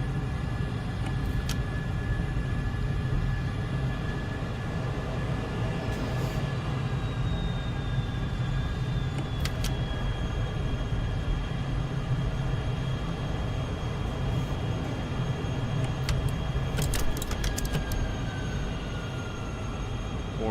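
Simulated F-14A Tomcat jet, gear up, making a slow flyby in a flight simulator: a steady, loud, continuous engine roar with a high whine that drifts down in pitch, holding throughout with no talk.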